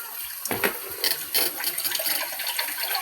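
Tap water runs steadily into a kitchen sink while kamote tops and moringa leaves are washed for breakfast, a continuous close splashing stream with a few brief louder gushes and no talk.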